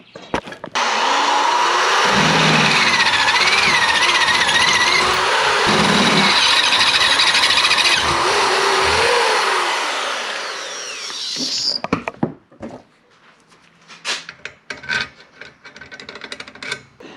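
A titanium drill bit bores through metal while fabricating an intercooler and radiator mount for a boosted EK hatch, a loud, sustained high squeal for about eleven seconds that cuts off, followed by scattered clatters and handling noises.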